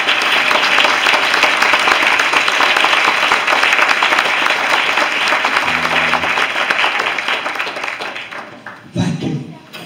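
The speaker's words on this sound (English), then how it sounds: "Let's stand and give them a round of applause." A church congregation at a memorial service breaks into sustained applause, dense and loud clapping that carries on steadily before tapering off near the end.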